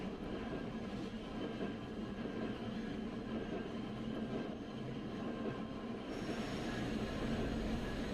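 A Hakodate city tram bound for Yunokawa rumbles along its rails with a steady, continuous low drone, growing slightly louder and rougher near the end, with no talking.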